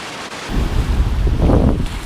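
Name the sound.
strong warm wind at the seaside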